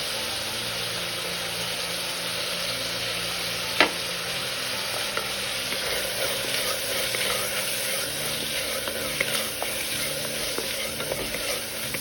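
Crushed dried red chilies fry with beef for an onion-and-chili beef dish, a continuous close sizzle with scraping stirs and one sharp clink of a utensil against the pan.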